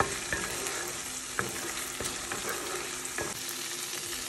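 Masala fries in a pan with green chili and kasuri methi. A steady, close sizzle and crackle is broken by a few spatula scrapes and stirring clicks, and no one talks.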